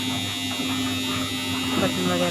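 A home washing machine runs with a steady, loud electric hum and drone throughout, with some talking over it.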